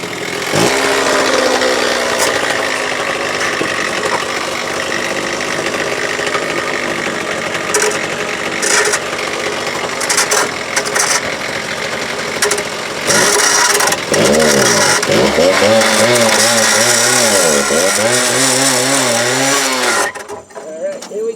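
A power tool whines and grinds while cutting through a steel U-bolt on a junkyard vehicle, loud and continuous with pitch swings as the load changes, briefly pausing before cutting out at the end; voices are heard intermittently.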